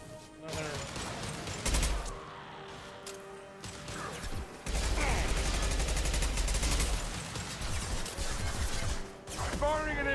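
Impact shots and gunfire in the Mass Effect Legendary Edition video game, with loud bursts of rapid firing and crashing impacts separated by quieter stretches of game ambience.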